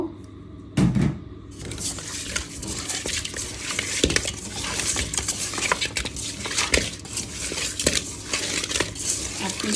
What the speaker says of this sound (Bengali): দিয়ে দিলাম হলুদ মরিচ লবণ মাছটা মাখিয়ে নিব